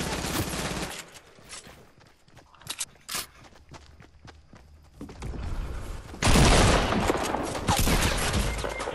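Gunfire in a shooter video game: bursts of rapid shots open and close the passage, with scattered single cracks and footsteps in between, loud and close, no talk.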